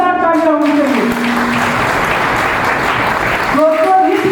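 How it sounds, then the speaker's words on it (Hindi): Loud crowd applause for a company's MD and CEO, a dense wash of clapping filling most of the moment, with a voice speaking briefly before and after it. "मिस्टर शशिकांत सर के लिए जोरदार तालियां होनी चाहिए।"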